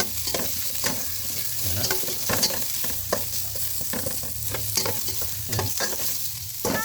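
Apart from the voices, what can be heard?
onions sautéing in a little oil for a mussel dish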